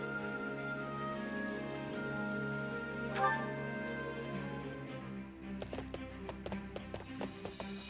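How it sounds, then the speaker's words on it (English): Horse hooves clip-clopping in the video game Fire Emblem Warriors: Three Hopes, a brisk run of sharp taps that sets in partway through over sustained background game music and grows into a steady rhythmic trot. "let us get these horses on the road"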